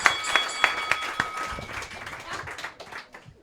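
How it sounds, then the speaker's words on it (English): An audience at a comedy roast battle claps, a few sharp rhythmic claps at first, then scattered applause that thins and fades while the room murmurs. "Clap it up, clap it up, clap it up"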